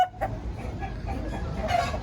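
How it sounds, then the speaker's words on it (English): Chickens clucking close by in Aourir, Morocco, a few short throaty clucks scattered over two seconds against light outdoor background noise. "how fucking mad is it how they just got chickens like that?"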